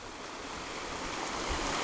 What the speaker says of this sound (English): And we have an idyllic little creek